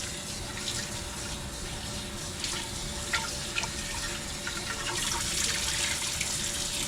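Cold tap water runs steadily into a kitchen sink while boiled poke greens (pokeweed) are rinsed, a continuous close hiss with small splashes and no talking.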